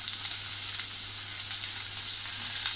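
Finely chopped onion and green chillies fry in hot oil, an even, bright hiss of sizzling heard close up with no talk and only faint stirring.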